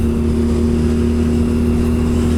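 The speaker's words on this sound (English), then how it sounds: "Lots of air, lots of power, great throttle sound, great exhaust note on this bike" A 2017 BMW R nineT Scrambler motorcycle on the road gives a steady, close engine and exhaust drone with a low throbbing note that holds even throughout, with no talking.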